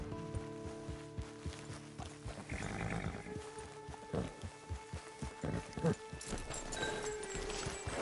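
Horse hooves clip-clop in a steady rhythm in the video game Red Dead, with a whinny and faint mechanical rattles over a low ambient bed, moderately near.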